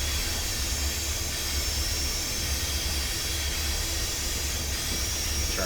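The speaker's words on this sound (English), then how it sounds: "dynamic brake fans" Dynamic brake fans on an Amtrak SDP40F diesel locomotive in Train Simulator, a constant broad whooshing hiss over a low engine rumble, steady and loud for the whole stretch.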